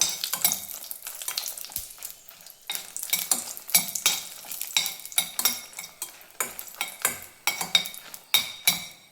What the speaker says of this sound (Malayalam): വെളിച്ചെണ്ണ ചൂടായിട്ടുണ്ട് നമുക്ക് നമ്മുടെ വറ്റൽ മുളക് ഒന്ന് ഇതിലൊന്ന് വാട്ടിയെടുക്കാം